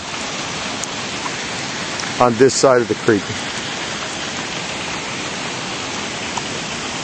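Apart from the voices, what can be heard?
steady rain falling by a creek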